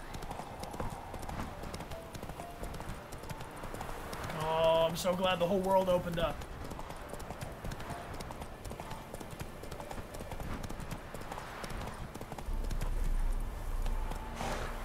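Horse hooves trotting in The Witcher 3 video game, a steady clip-clop running under the game's ambient sound and music, with a whinny partway through and people talking over it.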